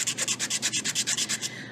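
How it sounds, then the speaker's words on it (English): A small wooden buoy is hand sanded against a flat surface in steady, rhythmic back-and-forth rasping strokes, about eight per second, close and even, with no voices. "It's nice when you're doing a flat area to just put it against another flat area when you're sanding a flat area."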